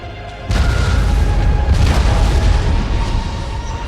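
Cannon artillery fire in the battle game Empire Total War: a heavy booming blast starts abruptly and rolls on as a dense, loud rumble with a second surge midway, no talk over it.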